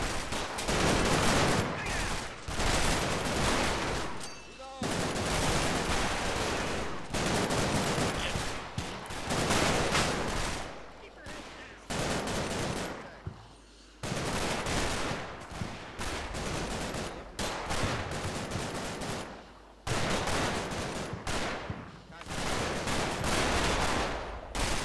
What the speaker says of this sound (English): My heavy machine gun teams are giving good suppressive fire from their position.